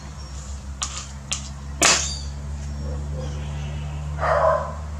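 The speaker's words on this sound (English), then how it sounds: "You're barking." A few sharp barks from a dog, spaced out over a steady low hum, with a faint rustle near the end.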